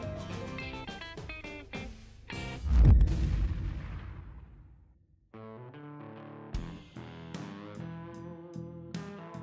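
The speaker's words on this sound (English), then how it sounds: "The guys are shooting well" Shotgun shots during a snow goose hunt in Saskatchewan, several sharp blasts in a quick volley with one heavy boom, a lull, then more distant cracks amid honking geese.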